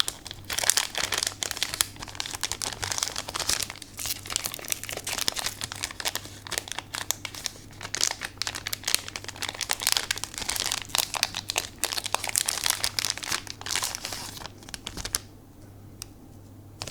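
Foil wrappers of Grand Archive Phantom Memories booster packs crinkle and crackle up close in a quiet room, a busy run of sharp rustles that continues for most of the stretch before dying away near the end.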